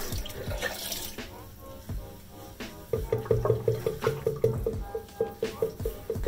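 Water runs from a sink tap while a face is rinsed with a microfiber cloth. The flow is close and steady, with rhythmic splashing pulses in the second half.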